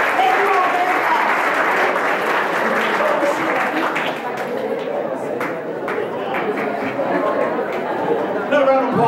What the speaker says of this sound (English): Another round of applause for Colleen and Kettenhofen